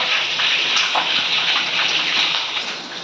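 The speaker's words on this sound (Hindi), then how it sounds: "मम्मी अभी मिर्च डालने वाली इस पतीले में देखो कैसी आवाज़ आ रही है" Hot oil sizzling steadily in a cooking pot just before chillies go in, a dense continuous hiss close by with no voices.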